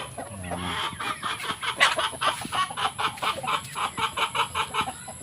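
Chickens on a farm alongside ducks and turkeys cluck in a steady string of short, close calls, with a brief low crow-like note at the start.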